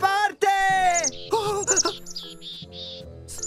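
A small bird in the animated children's show Fireman Sam chirps in short, high tweets, mixed with a cartoon voice.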